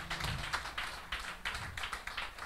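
Clapping from a congregation at a church service praising Jesus, a steady run of sharp claps over about two seconds with a low hum of voices underneath.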